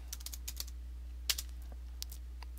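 Quick keystrokes on a computer keyboard tap out a short word, a dozen light clicks in an irregular rhythm over a low steady hum.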